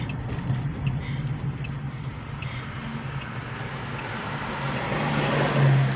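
Low steady engine rumble of road traffic close behind a stopped car near a transportation center, a continuous drone that swells slightly toward the end, with no voices.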